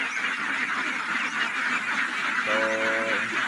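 Domestic ducks quack in a harsh, repeated burst near the end of the clip, over a steady wash of outdoor noise from the flock.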